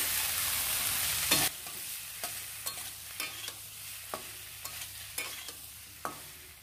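Fried cauliflower and potatoes stirred into cumin and turmeric spices in a pan, a soft sizzle with a series of evenly spaced spatula scrapes and knocks, close by, with no talking.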